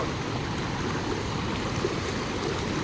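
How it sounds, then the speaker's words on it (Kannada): Water roars steadily out of an opened dam gate at Haluvagilu Katte reservoir in Hassan, a dense, continuous rushing wash with no pauses. "ಅಣೆಕಟ್ಟಿನ ಗೇಟ್ ಓಪನ್ ಮಾಡಿದ್ದಾರೆ ನೋಡ್ತಿರ್ಬೋದು ತುಂಬ ಜೋರಾಗಿ ನೀರು ಬರ್ತಾ ಇದೆ"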